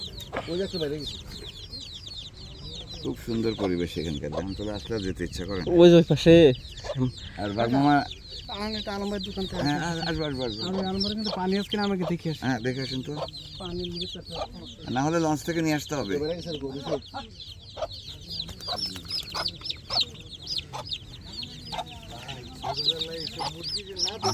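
Large flock of chickens mingled with ducks and geese on Dubla Char, clucking and honking in overlapping bursts, with people talking intermittently over the noise.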